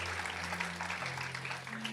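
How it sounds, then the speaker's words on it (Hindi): Audience clapping at a Ram Katha religious discourse gathering, a short burst of dense applause over a low steady hum. "बेटियों को ताली बजाना चाहिए"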